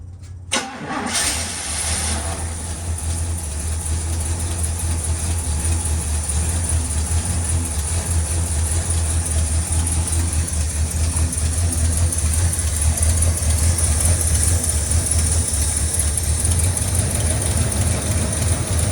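A 1976 Oldsmobile Vista Cruiser that sat for over 21 years cranks and fires up, then settles into a loud, steady, rough idle close by that continues unbroken to the end.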